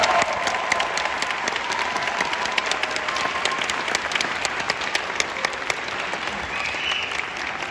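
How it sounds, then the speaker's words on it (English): Sustained applause from the audience at a 5th grade orchestra concert at Maltby Intermediate School, a steady dense clapping that fills the hall throughout with no break. "Give them a round of applause, please."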